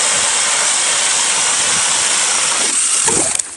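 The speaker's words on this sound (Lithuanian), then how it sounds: "Nieko nelaukdamas, pradėsiu gręžti eketės." An ice auger drilling holes in late-season lake ice for fishing, a loud, steady grinding whir held throughout, with a brief rattling scrape as it finishes.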